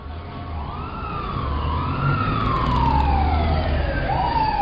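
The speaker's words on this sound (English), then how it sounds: "They're going to send an ambulance and a police car right away." Ambulance and police car sirens wail as they arrive, loud and close, with sweeping rising and falling tones over a rumbling engine.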